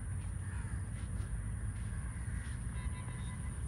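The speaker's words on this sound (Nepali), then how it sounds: "चराहरू यस्तो दामी चराहरू" Crows cawing near a garden in Malaysia, faint and distant, with several scattered caws over a steady low rumble of background noise.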